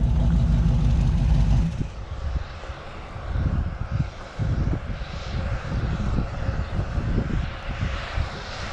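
A loud vehicle engine runs at idle close by, a heavy roar that drops slightly after the first couple of seconds and then rumbles on steadily with uneven low pulses.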